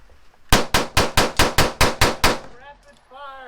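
A rapid string of about eight sharp, loud gunshots fired in even succession at a shooting range, each crack ringing briefly before the next, followed by a short burst of voice as the firing stops.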